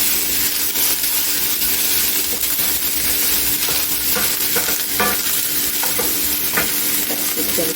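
Spoon stirring cream cheese and spices as they melt in a hot pan on a keto stovetop dish, with steady frying sizzle and scattered scraping clinks throughout.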